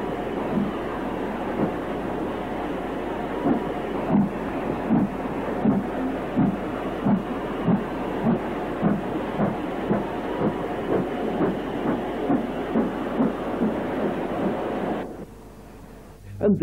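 A British Railways 8F steam locomotive hauling a southbound freight train through Wigan in the 1950s, with a steady rumble and a regular clickety-clack of wagon wheels over rail joints that drops away sharply near the end.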